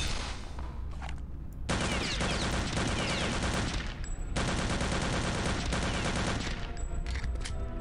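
Gunfire in Return to Castle Wolfenstein, in a crypt level: sustained loud bursts of automatic weapon fire in long stretches, broken by short pauses, with no talking.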